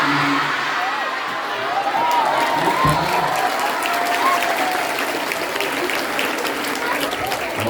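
Audience applause at an Islamic sermon gathering, a steady wash of clapping from a crowd filling the room, loud and sustained with faint voices mixed in.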